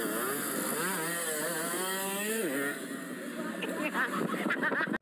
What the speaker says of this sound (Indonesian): Ini kondisi yang motor tornado itu gas jengat nih